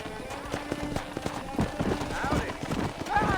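Horse hooves clip-clop at a quick gallop in the Red Dead Redemption video game, rhythmic beats under a rider's shout, with a brief whinny and faint game music.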